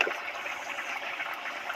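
Water trickles and pours steadily into a paste of salt and mustard for a Bengali ol kochu and prawn dalna, a soft continuous liquid stream heard up close with no voices.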